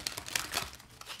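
Crisp papery rustling and flicking in quick bursts, close and fairly quiet, as tarot cards are shuffled by hand.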